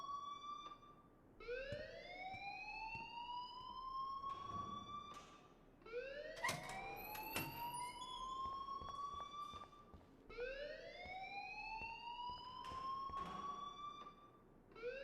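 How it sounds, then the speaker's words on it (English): A fire alarm wails in a school in the game Life is Strange, sweeping upward in long repeated rising tones with sharp beeps between them, loud and continuous with nobody talking. "please turn off that alarm since that's your job"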